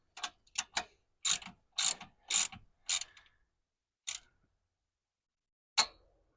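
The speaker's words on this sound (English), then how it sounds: "it might look like I'm absolutely cranking on these, but really I'm just seating that compression washer" A hand ratchet works on new spark plugs in a '93 Thundercat, giving close, crisp bursts of clicking, about nine short runs with gaps, the last one alone after a pause.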